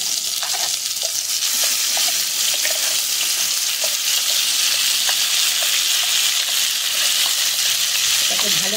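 Ground green pea filling dropped into hot oil in a kadai, a steady loud sizzle and bubbling hiss with occasional stirring scrapes, alone without talk.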